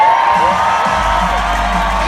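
A large indoor arena crowd at an Arenacross motocross event in Birmingham, UK roars and cheers in a dense, continuous wash of shouting, with a low rumble underneath.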